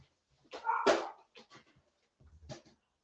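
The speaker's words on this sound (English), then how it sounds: "He's a proper yappy, you know, our doggy." A small yappy pet dog gives several short, sharp yips and whimpering barks in two quick bursts separated by a brief pause, close by and fairly quiet.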